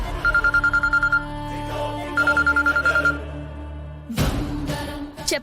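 A telephone ringtone in a TV serial scene plays over background music, sounding in two bursts of rapid electronic pulses before the music shifts abruptly.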